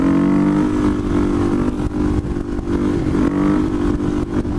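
A supermoto motorcycle is ridden hard and shifts from third to fourth gear without the clutch. The engine drones loud and close, with a brief dip in tone at the shift and then a steady pull.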